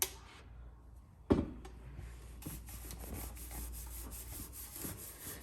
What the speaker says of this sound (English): when you're scrubbing anything that is chrome